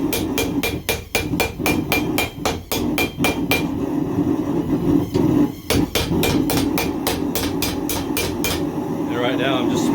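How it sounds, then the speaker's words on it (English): A hammer strikes a steel blade during forging and beveling, ringing in fast, regular metallic blows, close and loud, with a brief pause mid-sequence before the rapid rhythm resumes. "Right now I'm just smoothing out some of those hammer blows just to see what I've got."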